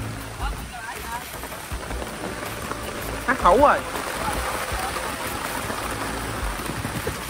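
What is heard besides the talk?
rain falling outdoors by a river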